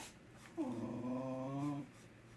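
A dog lets out one drawn-out, tonal whine with a growly edge, fairly faint and alone against a quiet room background.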